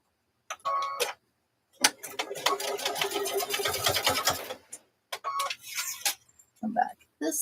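A sewing machine stitches a fabric lanyard with a fast, steady mechanical rattle for a few seconds, broken by quieter pauses and short bursts, with brief talk near the start and end.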